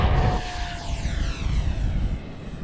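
A Freewing F-5N RC jet with an 80mm electric ducted fan flies past at full power, a loud rushing whine with falling pitch as it passes, heard outdoors with no talk.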